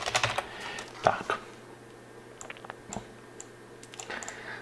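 Typing on a computer keyboard, close by in a quiet room, with irregular bursts of key clicks and short pauses between strokes, no talking.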